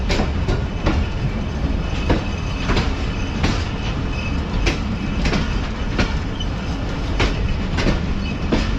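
Karachi Express passenger train running on rails at speed, heard from inside a coach as a loud continuous rumble with regular clickety-clack of wheels over rail joints throughout.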